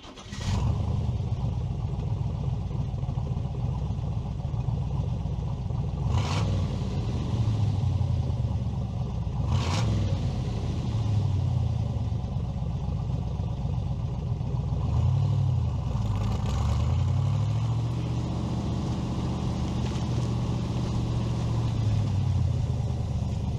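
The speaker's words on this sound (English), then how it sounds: "Shifting those gears, hearing those pipes, I love that." A classic convertible with a 327 V8 rumbles loudly and continuously through its exhaust pipes, the engine note dipping and rising as gears are shifted on the move, with a few brief thumps along the way.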